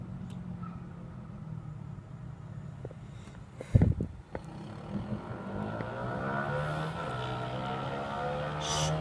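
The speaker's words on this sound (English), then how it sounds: "Stupid loud car." A loud car passes by outdoors during a thunderstorm, its engine rumble rising around the middle and holding steady afterward, with a sharp louder burst near the midpoint.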